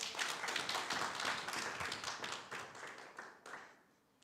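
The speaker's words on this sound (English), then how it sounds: "Can you give yourself a hearty clap?" Graduates at a graduation ceremony clapping for themselves, a soft, dense patter of many hands heard from afar, swelling and fading in waves before tapering off near the end.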